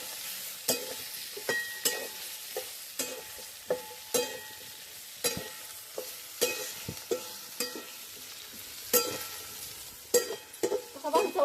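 Brinjal curry stirred in a pan, a spoon scraping and knocking against the metal in uneven strokes every second or so over a faint sizzle, close and fairly loud with no talking.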